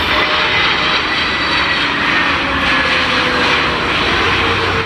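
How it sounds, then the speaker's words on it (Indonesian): A loud, steady roar of an airplane engine passing overhead, continuous and broadband throughout with no talking. "Kalau yang ini pesawat terbang."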